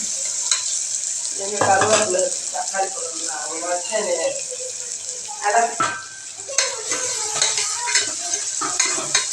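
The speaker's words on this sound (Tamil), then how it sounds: "கொஞ்சம் கல்லுப்பு சேர்த்து நன்கு கிளறவும்." A frying dish is stirred in a pan after rock salt is added, with steady sizzling, scraping stirs and clatter throughout, and people talking over it at times.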